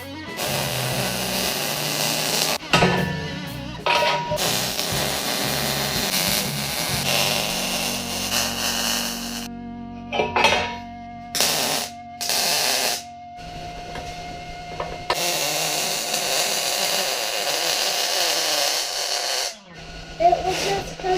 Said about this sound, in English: Only thing left to do now is weld these corners up.